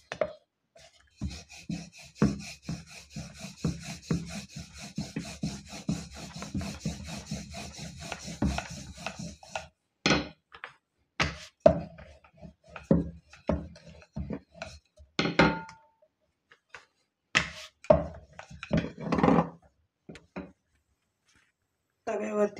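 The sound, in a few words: rolling out sesame flatbread (til poli) dough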